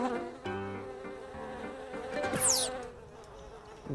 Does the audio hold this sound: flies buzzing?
yes